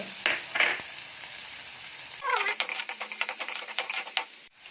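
Chopped green chili and onion sizzle in hot oil in a kadai, with a steady frying hiss, a sharp burst as the ingredients hit the pan, and quick scraping, stirring clicks, close and moderately quiet.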